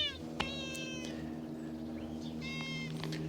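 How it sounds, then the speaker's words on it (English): An old cat meows twice, quietly and at a distance, over a steady low hum, with a soft click early on. "Sniff, sniff. Meow."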